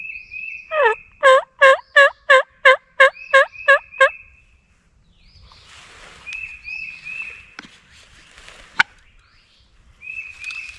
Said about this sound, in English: We often hear them gobbling first thing in the morning off in this direction